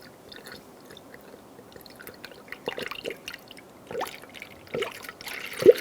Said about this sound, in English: Keep filling up your coolant until it's about halfway up your funnel.